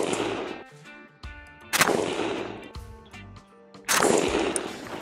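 Three loud rifle shots from an Arsenal SAM5 Bulgarian milled 5.56 AK firing Sierra MatchKing loads at a range, each a sharp blast with a ringing tail, spaced about a second or two apart.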